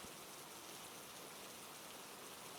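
Steady rain falls on a city street, a continuous hiss of drops spread evenly across the whole clip with no voices.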